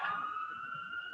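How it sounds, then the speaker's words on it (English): A police-style siren wails outside an office, its steady tone muffled and reverberating through the window, moderately faint but continuous. "I can hear the siren outside reverberating with Chris's office and then my window."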